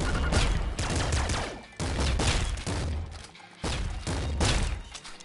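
A laser rifle fires in the video game Nuclear Throne. Dense, continuous bursts of rapid shots and impacts come in three long volleys separated by brief dips, loud and busy throughout.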